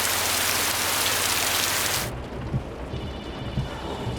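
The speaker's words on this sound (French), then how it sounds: "Il pleut à torrent." Torrential rain pours down in a loud, steady roar that cuts off abruptly partway through, leaving a quieter backdrop of scattered drips and patter.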